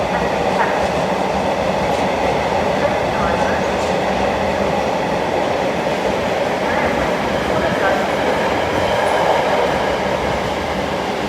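A train departing Newark for Newark Castle rumbles steadily from inside, with a constant low roar and faint rattling of wheels on track.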